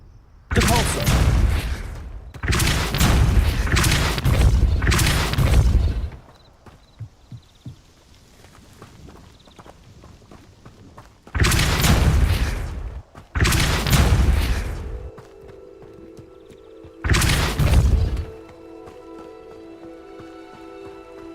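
Depulso force spell cast in the video game Hogwarts Legacy, sounding as loud, booming broadband blasts in several separated bursts, some back to back, with quieter rumbling gaps between them.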